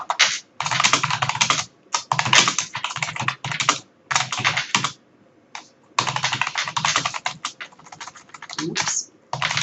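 Rapid typing on a computer keyboard in bursts of clicky keystrokes with brief pauses, close and clear, entering text into Natural Reader text-to-speech software on Windows.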